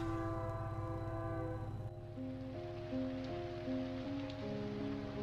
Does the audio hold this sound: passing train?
yes